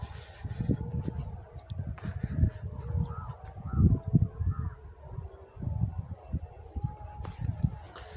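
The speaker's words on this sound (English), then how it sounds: "There are four Indian birds are here." A small group of four birds in India gives repeated goose-like honking calls in short bursts, fairly near but soft, with someone speaking quietly at times.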